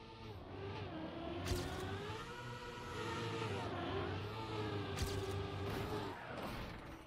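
Game car engine in Trackmania droning and shifting pitch as it drives over a wooden track surface, a steady whirring hum with rising and falling revs and a few brief clicks, heard alone.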